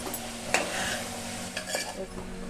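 Chili powder is stirred into a beans and tomato curry in a pan, soft scraping spoon strokes and light clinks over a quiet sizzle, fairly faint and close with no talk.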